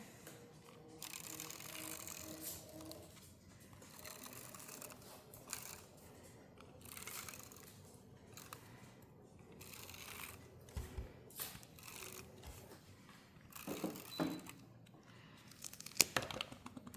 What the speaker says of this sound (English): I'm going to go ahead and do my tape runner.